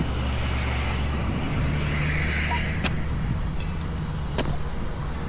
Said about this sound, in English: the truck coming up behind me